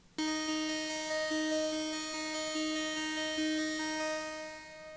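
A dry psytrance synth arpeggio with a faint layer of white noise and no effects: a rapid, repeating pulsing pattern of bright harmonic tones over a steady hiss, clear and alone, fading slightly at the end.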